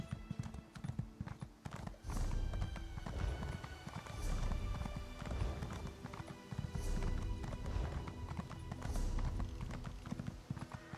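A horse gallops in The Elder Scrolls Online, with steady rhythmic hoofbeats close and loud throughout and occasional whinnying over the pounding.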